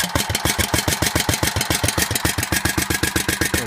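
A Snapper lawn mower's small engine idles right after an electric start, a loud, close, steady rapid chugging with an even pulse and no voices over it.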